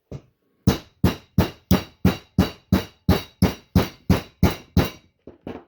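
A hammer taps a part into place with a single hit, a short pause, then about a dozen sharp, evenly spaced loud strikes in a steady rhythm, each quickly fading, close and alone.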